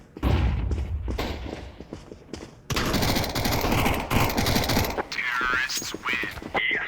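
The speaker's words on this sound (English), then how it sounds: "Throwing a flashbang." In a Counter-Strike match, a flashbang goes off and dense automatic gunfire follows in rapid bursts, loud and close. A stretch of sustained shooting is followed by ringing, warbling tones at the end.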